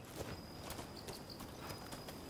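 Horse hooves clip-clopping at a walk in the video game Rise of the Ronin, a steady, even rhythm of soft hoof strikes, faint and alone with a thin high tone running through.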